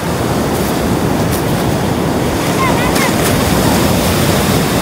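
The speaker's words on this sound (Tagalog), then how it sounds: "Lakas ng alon." Strong ocean waves break on a seaside shore in a loud, continuous roar of surf, with wind buffeting the microphone throughout.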